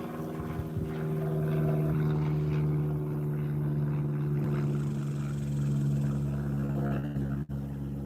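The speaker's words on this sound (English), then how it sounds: "Airplane." Steady engine drone of a small airplane flying overhead beside a fishing lake, a continuous low hum with strong harmonics holding level for the whole stretch, no talking.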